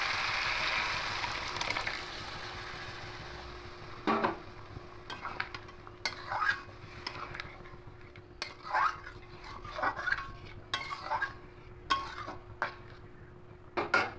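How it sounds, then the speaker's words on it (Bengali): A ladle clatters repeatedly against a pan as boiled mung dal goes in over fried catla fish heads, irregular close metallic knocks and scrapes over a soft steady background hum. "এবার এখানে ডাল সিদ্ধটা দিয়ে দেবো।"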